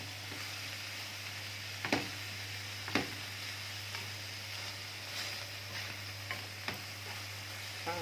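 Red and yellow bell peppers fry with liver in a pan, giving a steady, soft sizzling hiss broken by a few light clicks and scrapes from stirring.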